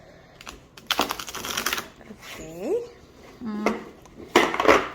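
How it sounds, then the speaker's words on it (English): A Druid Craft tarot deck with thin, flexible cardstock is shuffled by the corners, giving bursts of papery riffling and card clicks, with a brief spoken word in between. "Let's try and shuffle, let's say, with the corners."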